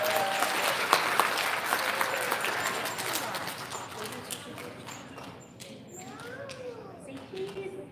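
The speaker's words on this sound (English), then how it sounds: "Big round of applause for our first grade." An audience at an elementary school recognition ceremony applauds first grade students, dense clapping that gradually thins and fades, with voices and chatter emerging toward the end.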